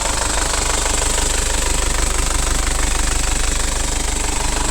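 A 2012 Chevrolet Tavera LT diesel engine runs at a steady idle, close and loud, with a continuous knocking clatter and a broad rumble that holds evenly throughout, with no voices.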